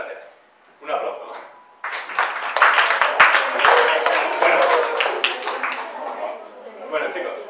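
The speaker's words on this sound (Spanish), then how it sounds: "muchas gracias. Un aplauso." Group of students applauding at a classroom talk; scattered claps build into a dense, steady round of clapping with voices talking over and around it.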